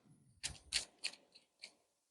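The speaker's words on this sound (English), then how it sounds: "So I'm going to reshuffle this." Playing cards from a Marvel Champions encounter deck being reshuffled by hand, a handful of quick papery riffles and snaps, close and fairly faint, with no talking.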